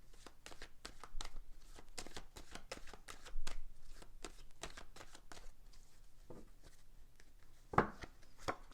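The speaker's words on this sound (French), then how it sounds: "je vais tirer 2 cartes de synthèse." Tarot cards are shuffled and drawn by hand, a quiet close run of crisp riffling flicks and soft slides in quick bursts, with a couple of sharper taps near the end.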